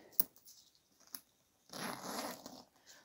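The zipper on top of a large Michael Kors Kris satchel: a couple of small ticks, then a soft, close zip pull lasting about a second, quiet and alone.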